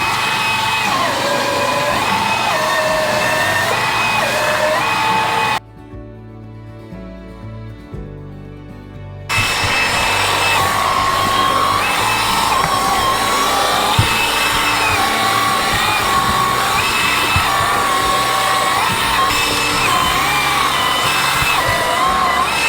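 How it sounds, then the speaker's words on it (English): A cow brush cleans cow teats in a milking parlour, giving a continuous whirring, brushing drone that cuts out briefly for a few seconds and then resumes, with no talk. "How we clean our cows is using the cow brush."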